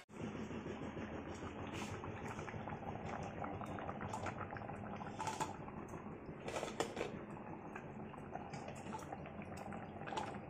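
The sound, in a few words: lentil fritter curry boiling in a pot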